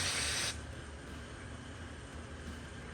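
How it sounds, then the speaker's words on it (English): Brake cleaner hisses out of an aerosol can in one short, loud blast onto an engine surface during a Mopar 408 stroker build, then cuts off into quiet room noise. "Good old trusty brake cleaner."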